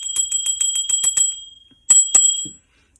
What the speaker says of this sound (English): I'm going to ring the bell for each of them.